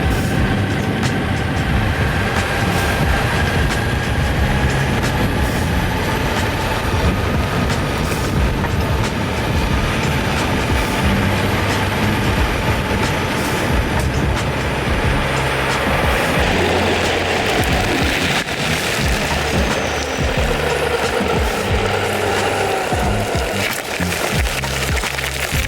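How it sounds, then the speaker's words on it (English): Urethane wheels of a direct-drive electric skateboard roll steadily over a road surface, producing a continuous broadband rumble and hiss that stays even and close throughout, with no voices. "All you can hear is the road. I know, and the urethane."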